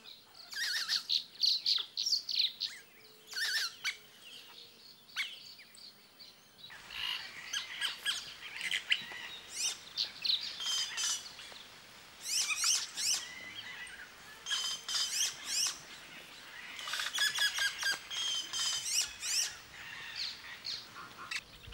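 Japuíta birds call in a Brazilian jungle with bright squawks, chirps and chattering song phrases that come in repeated bursts over a faint background of insects, close and clear without talk.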